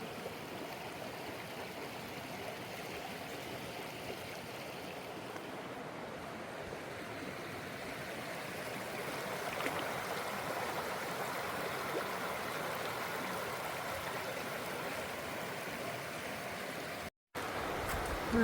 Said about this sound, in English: It's not a bad waterfall at all